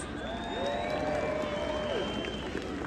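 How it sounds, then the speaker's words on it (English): A large audience at a Christmas charity event applauds, a dense continuous roar of clapping held steady throughout, with a sustained tone running over it. "So give yourselves a round of applause."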